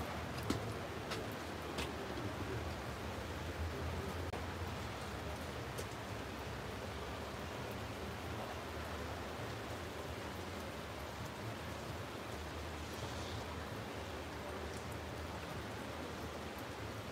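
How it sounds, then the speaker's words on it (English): Steady rain falls outdoors on a city street in St Petersburg, Russia, near a Swedish church, a continuous broadband hiss of drops that holds even and moderately loud throughout. "you literally can see now the drops, the big drops of rain."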